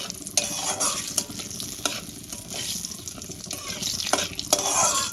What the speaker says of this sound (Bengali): আমি ফোড়নে গোটা জিরে আর 2টো তেজপাতা দিয়ে দিয়েছি।